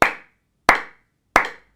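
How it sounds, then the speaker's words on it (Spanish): A group claps hands three times in an evenly spaced sequence about two-thirds of a second apart, each sharp clap decaying quickly, with silence between and no talking. "ahora quienes tenían gafas aplaudían tres veces"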